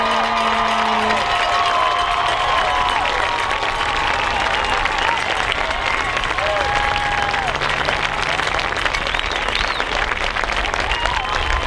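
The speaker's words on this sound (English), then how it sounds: "Let's give him a round of applause." A high school football crowd applauds and cheers from the stands as a player's jersey number is retired, loud continuous clapping mixed with scattered whoops and shouts, with an announcer's voice briefly over it at the start.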